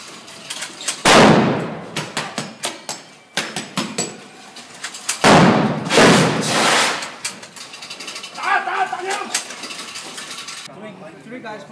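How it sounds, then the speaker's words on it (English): Big explosions on a movie set for a Chinese film, with two heavy blasts a few seconds apart, each a sharp loud burst trailing into a long rumbling roar, among scattered cracks and clattering debris. "big explosions"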